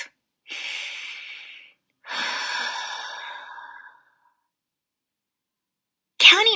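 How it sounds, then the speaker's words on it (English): Two long, deep breaths drawn and released slowly by a person, each a soft airy rush lasting over a second with quiet gaps between, followed by a short sharper breath at the end. "I like to take long, deep breaths."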